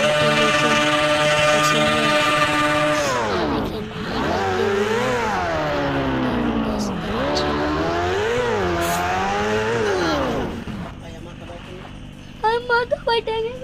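A Kawasaki Ninja motorcycle engine revs hard, holding a high steady tone and then swooping down and up in repeated throttle blips. It cuts off abruptly and leaves only a few sharp clicks.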